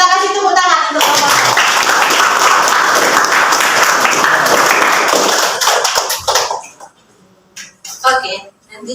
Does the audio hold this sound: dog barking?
no